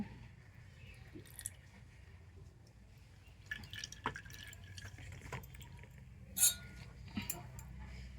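Guava leaf juice is poured into two bowls, heard as faint scattered drips and soft wet squishes in a quiet room, with a couple of sharper splashes near the end.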